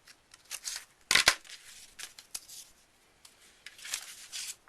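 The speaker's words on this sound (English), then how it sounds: "So cut out one of these petals, going along with the natural fold of your piece." Scissors cut a petal out of folded paper for a pop-up flower card, a series of short, crisp snips and rustles up close, one louder burst near the start among the lighter cuts, with no talk.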